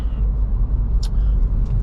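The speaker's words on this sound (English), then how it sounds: "So I'm currently driving home now." Car driving home on a road, heard from inside as a steady loud low engine and road rumble with a brief faint hiss partway through.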